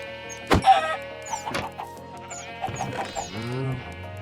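Minecraft chickens clucking: a few short clucks and bleats with chirpy tones over a soft looping background hum, with sharp hits near the start.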